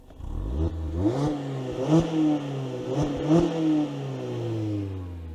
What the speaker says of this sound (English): Corey, we got some old school pipes back here.